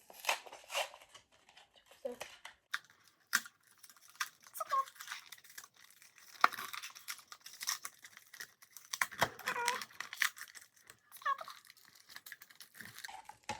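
Cardboard packaging of a Faber-Castell eraser is torn and crinkled open in sporadic close bursts of ripping and crumpling, with quiet gaps between and a voice talking at times.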